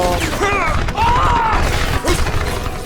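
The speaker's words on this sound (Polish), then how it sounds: "Jakieś wybuchy, wszystko. Nawalać, nawalają." Explosions and gunfire in the shooter game Crysis form a dense, loud, continuous din of crashes and rattling blasts, mixed with whistling tones.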